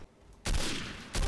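Two sharp bursts of gunfire in the online multiplayer shooter Day of Defeat: Source: a loud crack about half a second in that rings on, then a second close shot about a second later.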